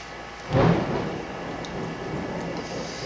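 A clap of thunder used as a sound effect, a single sudden low rumble that swells and then rolls on steadily beneath a rain-like hiss.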